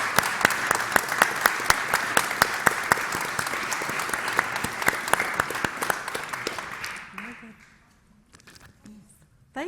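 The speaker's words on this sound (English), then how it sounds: "you could hear from the applause from the audience" Audience applause at the Nursing Now global launch, dense sustained clapping from a large crowd that fades away near the end into quiet.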